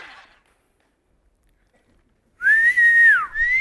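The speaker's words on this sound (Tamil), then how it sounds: "டேய் விசில் அடிச்சுக்கிட்டே இருக்காதா கண்டக்டரா நீ?" After a near-silent pause, a person lets out a loud, sharp whistle, a sustained pitched tone that dips and then resumes briefly.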